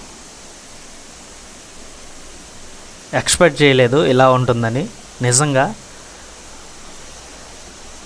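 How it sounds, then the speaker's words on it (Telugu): The Aaluru waterfall near Pachipenta gives a steady, broad rushing roar throughout, and a person speaks briefly over it in the middle. "చాలా బాగుందండి వాటర్ఫాల్"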